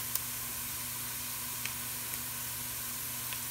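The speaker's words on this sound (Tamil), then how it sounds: "இப்போ ஜிஞ்சர் இப்படி பொரிந்து கொண்டிருக்கிறது." Grated ginger frying in extra virgin olive oil gives a soft, steady sizzle and hiss throughout, quiet and close, with a few faint ticks and no talking.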